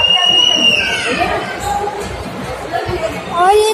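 Dense crowd chatter fills a busy Sai temple in Delhi, a steady wash of many overlapping voices with a few children's shouts rising above it.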